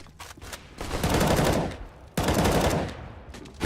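Rapid gunfire bursts fill a Counter-Strike match at DreamHack Masters Malmö, with two long sustained volleys of spraying shots separated by a brief pause, loud and close.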